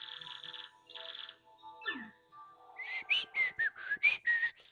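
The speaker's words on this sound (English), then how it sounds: "I don't know why I'm whistling" A person whistles a short, bright melody of quick rising and falling notes near the end, after softer tonal sounds from a Paper Mario: The Thousand-Year Door game play in the background.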